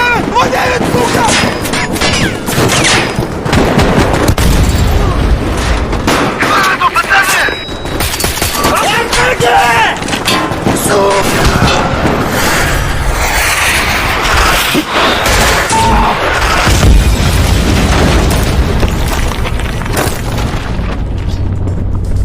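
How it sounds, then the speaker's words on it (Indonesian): Heavy gunfire and explosions fill a war film firefight between Russian and NATO mercenary groups, with dense overlapping bursts and booming blasts running loud and continuous throughout the clip. "setelah terjadi jual beli tembakan yang cukup lama di antara dua kelompok tersebut"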